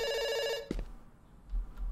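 A telephone in a video game rings with a steady electronic trill that cuts off partway through, leaving a quiet background hum.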